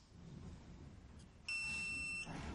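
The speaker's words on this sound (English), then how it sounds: "Once you hear the beep, you will see 6 Fs on your screen." A TST 507 tire pressure monitor beeps while coding a flow-through sensor on an outside dual tire: one clear, sustained electronic tone lasting under a second over quiet background hiss.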